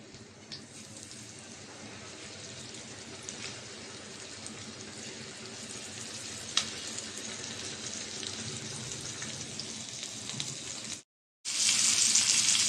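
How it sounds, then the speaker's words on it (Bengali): Turmeric-and-chili-coated fish fries in hot oil in a pan, a continuous close crackling sizzle with scattered pops that swells slightly, then cuts to a brief silence before a louder burst of sizzling resumes. "তেলটা গরম হয়ে গেছে, মাছটা দিয়ে দিব।"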